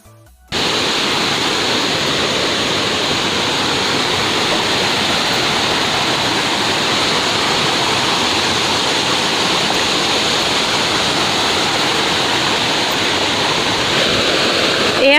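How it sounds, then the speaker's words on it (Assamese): A waterfall near a temple roars as a loud, close, continuous rush of water. It starts abruptly and holds steady throughout, with no voices. "এয়া শুনিছেনে পানীৰ শব্দ?"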